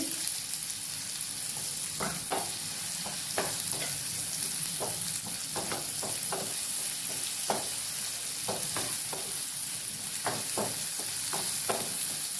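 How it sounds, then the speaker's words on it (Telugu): Cumin seeds and dried red chilies fry in hot oil with a steady close sizzle, punctuated by sharp, irregular crackles and pops throughout. "ఇప్పుడు జీలకర్ర, ఇది కూడా ఫ్రై చేసుకొని ఎండుమిర్చి"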